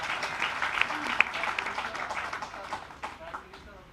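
A crowd applauds with steady, dense clapping beneath a speaking voice at a political speech in Chhatrapati Sambhajinagar, fading slightly toward the end.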